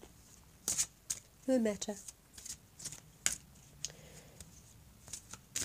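A deck of oracle cards is shuffled by hand close up, with crisp riffling and slapping card sounds in short bursts while a person speaks briefly.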